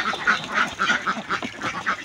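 Laying ducks being fed gabble and quack close by in quick overlapping bursts, a busy flock chorus lasting the whole moment.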